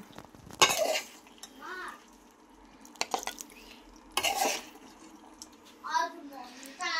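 Cooked mutton for a Bengali-style curry is scooped out of a pan, with intermittent scraping and clattering of a utensil against metal, brief clinks and pauses, and a voice speaking quietly in between.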